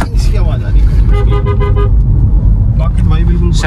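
Horn of an MG Hector 2023 SUV, a loud sustained toot with bright stacked tones, sounded in a couple of blasts close up over engine and road rumble.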